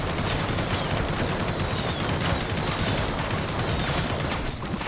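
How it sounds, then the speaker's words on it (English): Enemy machine gunners in a video game unleash sustained, dense automatic fire, a loud continuous rattle of overlapping bursts with no pauses, heard alone and up close. "Oh yeah, I forgot there were machine gunners on this one."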